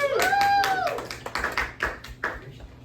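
Audience clapping and cheering for comedian Matt McElhone at a comedy show, scattered close hand claps with whoops and voices, fading over a few seconds.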